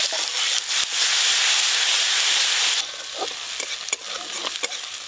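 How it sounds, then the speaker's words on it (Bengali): Ground dried red chili paste and turmeric powder frying with five-spice seeds in oil for a snakehead fish curry, a loud close sizzle that drops in intensity partway through, followed by scattered stirring taps and scrapes. "লঙ্কাটা একটু ভাজা ভাজা হতে থাক"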